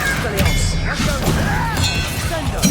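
Bombarda blasting spell in the video game Hogwarts Legacy, a series of loud crashing, thudding impacts with ringing debris and clatter mixed with combat effects and grunts, bursting repeatedly over a couple of seconds.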